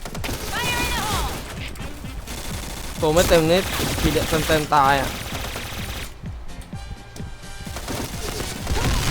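Bursts of rapid gunfire from a G11 rifle in the video game Point Blank crack and rattle in loud clusters, mixed with excited talking and other game sounds.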